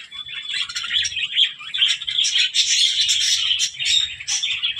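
Six finches, three pairs, chirp in a new cage, a busy close chorus of high, quick tweets and short calls overlapping almost continuously.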